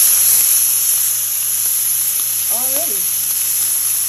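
Homemade English-style back bacon sizzles as it fries in a pan, a steady, bright hiss of spattering fat that runs without pause while a voice briefly speaks over it.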